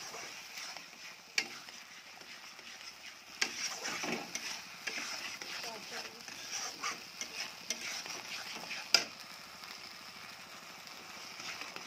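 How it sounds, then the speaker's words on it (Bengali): Yogurt and nut paste are stirred into frying masala in a pan for a catla fish curry, producing a soft, fairly quiet sizzle with repeated scraping strokes and a few sharper knocks against the pan. "দই আর কালো বাদামের পেস্টটা দিয়ে অনবরত নাড়তে হবে"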